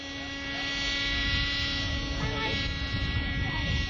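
A steady whirring rotor and engine drone, like a small helicopter, hums continuously with a buzzing high whine throughout.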